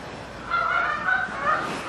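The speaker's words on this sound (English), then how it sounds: "There's geese!" Geese honk close by in a noisy overlapping cluster, several nasal calls repeating over about two seconds with no talking.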